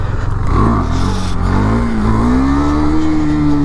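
A KTM Duke 390 motorcycle engine revs hard during a wheelie, a loud, close, rising engine note that climbs and holds steady.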